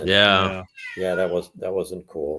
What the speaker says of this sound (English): Sorry about my cat here.